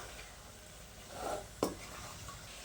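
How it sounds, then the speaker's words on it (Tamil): Vegetables and soy chunks being stirred in a pan, with a soft scrape followed by one sharp clink of utensil against metal, heard alone against a quiet kitchen background. "இப்போ நம்ம மிக்ஸ் பண்ணி விட்டுக்கலாம்."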